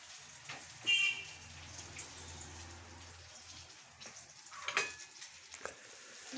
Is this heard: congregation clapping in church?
no